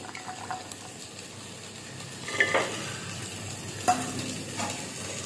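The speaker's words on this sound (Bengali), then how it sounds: "দিয়ে ভালো করে নাড়িয়ে দেব।" A spoon stirs khichuri with green peas in a frying pan. Soft scraping and a quiet sizzle go on throughout, with a couple of brief utensil knocks against the pan and no talking.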